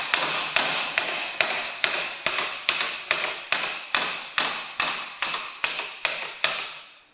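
Hammers strike a rusted tie rod end on a John Deere 2030 tractor's steering knuckle in a steady series of about fourteen sharp metallic blows, evenly spaced and ringing briefly, with no talk.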